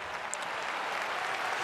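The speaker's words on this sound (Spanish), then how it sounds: "Aplausos desde la bancada." Spectators in the stands of a basketball arena applauding during a pro league game, a brief, even wash of crowd clapping at moderate distance.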